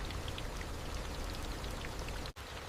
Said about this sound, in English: Heavy tropical rain suddenly transforms the forest.